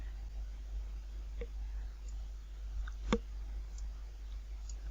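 Faint computer mouse clicks in a quiet room, a couple of sharp isolated ticks with one more distinct click standing out over low steady hum.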